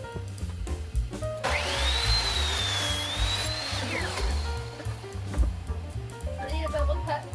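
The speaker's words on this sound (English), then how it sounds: "So I need to cut this board to meet with this board." Power saw making a bevel cut through a wooden board for a behind-the-couch table, a loud steady whine rising and holding for a couple of seconds over workshop background noise, with smaller tool sounds before and after.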